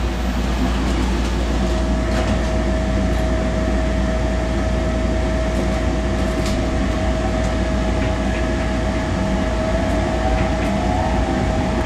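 A SEPTA subway train on the Frankford line hums steadily with a constant rumble and a sustained tone, moving along without anyone speaking.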